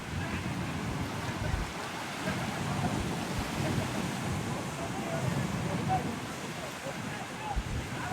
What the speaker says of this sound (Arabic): وبالذات لو الموج عالي زي دلوقتي